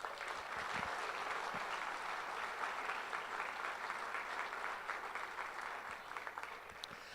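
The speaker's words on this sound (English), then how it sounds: "Please join me in thanking these individuals with a round of applause." An audience at a hall of honor induction ceremony applauds in a long, even wave of clapping, fairly distant and soft but sustained throughout.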